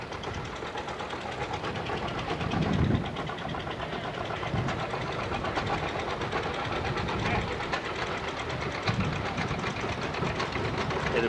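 A John Deere tractor used for tractor pulls rolls past in a town bicentennial parade, a steady, rough engine rumble that stays close and fairly loud the whole time, with crowd noise and talk mixed in.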